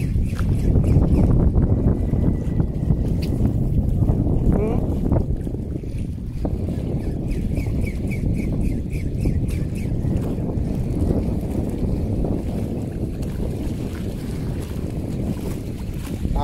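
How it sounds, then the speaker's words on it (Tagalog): Strong wind roars and buffets the microphone on a fishing boat out on open water, loud and continuous throughout, with faint water and boat noise beneath and no clear talk. "Lakas kasi ng hangin."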